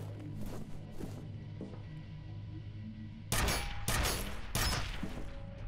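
Sniper rifle gunfire in the video game F.E.A.R.: three loud, sharp shots with ringing tails arrive in quick succession after a stretch of low droning game ambience.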